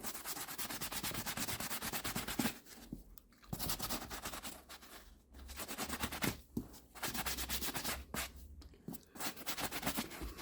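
A brush scrubs steadily across a suede boot in continuous rough strokes, with a few short pauses between passes, close and fairly quiet.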